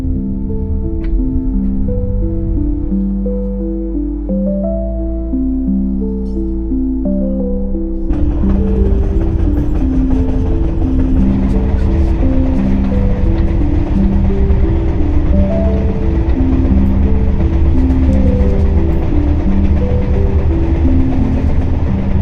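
A sleeper train running from Cairo to Luxor, with a steady loud rumble and rhythmic clickety-clack of wheels over rail joints that grows harsher and louder partway through, with no talking.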